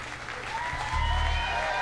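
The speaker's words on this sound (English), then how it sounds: "to enjoy your thunderous applause" Applause from a live concert audience in New York, a steady dense wash of clapping that swells slightly louder partway through, with no talk over it.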